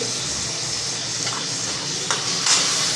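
A pan of drumstick (moringa) vegetable curry is stirred, giving a steady, close hiss of simmering with a few brief scraping clinks of a spoon against the pan.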